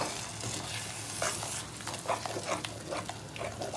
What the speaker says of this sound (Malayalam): ഇനി നമുക്ക് നമ്മൾ അരച്ച് വെച്ചിരിക്കുന്ന തക്കാളി ഒഴിച്ചു കൊടുക്കാം